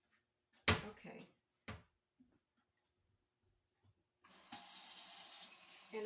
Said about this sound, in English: I'm just using regular faucet water